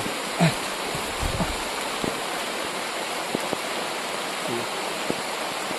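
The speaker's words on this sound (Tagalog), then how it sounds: "napakalakas na ng ulan dito" Heavy rain pours as a dense, constant hiss with a few scattered louder drips and knocks.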